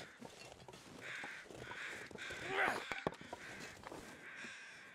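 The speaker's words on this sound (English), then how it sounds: "I hear another set of crows as well." Crows caw in the video game The Long Dark, harsh repeated calls in short bursts over a steady wind-like ambient hiss out in the Muskeg, moderately distant.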